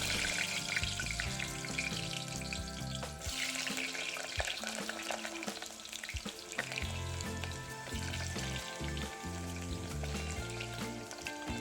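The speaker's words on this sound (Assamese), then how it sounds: "এতিয়া আমি ইয়াত আলুখিনি ভাজি ল'ম।" Potatoes fry in hot mustard oil in a pressure cooker, giving a steady sizzle with occasional stirring over background music throughout.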